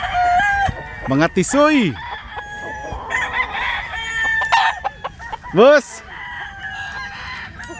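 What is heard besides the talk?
rooster crowing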